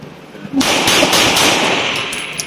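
Rapid burst of 9mm pistol fire from a stainless Beretta 92FS, loud close shots that blur together into one dense crack with ringing after, outdoors at a range.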